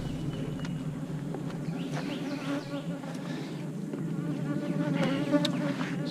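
Honeybees buzz steadily around an open hive, a dense, continuous drone of many insects that swells slightly toward the end.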